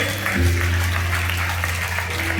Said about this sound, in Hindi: तो जोरदार तालियां और धन्यवाद दे